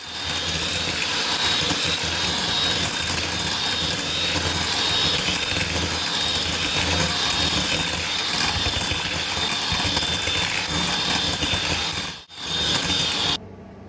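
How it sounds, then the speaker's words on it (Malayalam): An electric mixer beats Turkish pastry batter in a bowl, a loud, steady motorized whir with a rattling, grinding edge that runs continuously, then cuts out briefly near the end before a short restart. "ഇനി നമുക്ക് ബീറ്റ് ചെയ്യാം"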